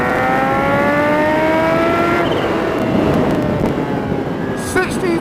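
A sport motorcycle, a Ducati Panigale V4R or Kawasaki Ninja H2, accelerates hard in third gear, its engine whine climbing steadily under loud wind rush, then shifting and dropping near the end.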